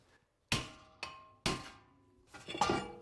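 A hammer strikes between the wheel studs to free a stuck front brake rotor on a 2009-2014 Acura TL, giving several sharp metallic hits with ringing decay, spaced unevenly and close up.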